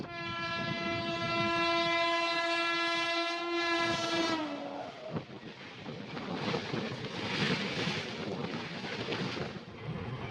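A train arriving at Khandwa station sounds a long, loud, steady horn blast that cuts off after a few seconds, followed by the rumbling clatter of the moving train and the noise of a busy platform.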